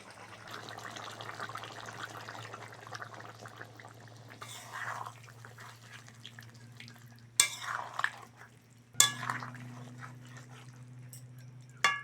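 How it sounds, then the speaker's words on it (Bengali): Mustard paste thinned with water gets poured into a simmering Bengali fish curry of small river chanda fish, with soft liquid sloshing and a couple of brief clinks over a steady low hum. "তাই একটু সর্ষে জলে গুলে দিয়ে দিচ্ছি"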